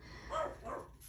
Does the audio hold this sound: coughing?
no